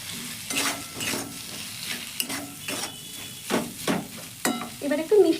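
Potato filling is stirred and fried in a pan, with a steady sizzle under repeated scraping strokes of a spoon against the metal, close and moderately loud, with no talk.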